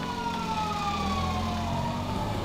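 A loud wailing police car siren in the video game GTA 5 sweeps up and down continuously over a low engine rumble, close and steady throughout.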